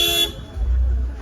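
A car horn toots briefly at the start, then the low rumble of an idling car engine continues close by, with a voice faintly in the background.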